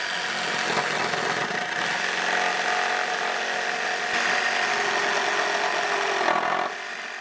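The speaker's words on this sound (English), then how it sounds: "Just using a little square here, making my line, and then using the hacksaw" A hacksaw cutting through a piece of wood for a porch decor project, steady rasping back-and-forth strokes close up, continuous for several seconds before stopping.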